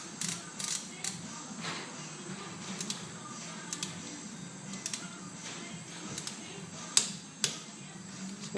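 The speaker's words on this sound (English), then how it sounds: "Tighten the pinch bolt. Put that pinch bolt back up" Small mechanical clicks and ratcheting from a tool tightening the chain adjuster pinch bolt on a Ducati Multistrada 1200 motorcycle, scattered sharp ticks over a low steady background hum.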